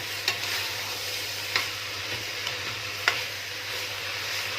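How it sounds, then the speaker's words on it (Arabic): Rice is stirred in hot fat in a pan, sizzling steadily with a few sharp scrapes of the spoon, while the rice is being prepared as a stuffing for chicken. No one speaks. "تقلبيه كويس لغايه لما الرز يسخن"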